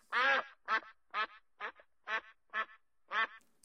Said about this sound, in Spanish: ¡Cuac, cuac, cuac! Grazna complacido.